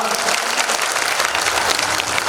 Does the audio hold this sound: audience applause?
yes